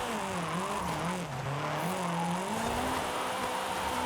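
A race car engine in Forza Horizon drones steadily, its pitch rising and falling as the throttle opens and eases, continuous and loud throughout.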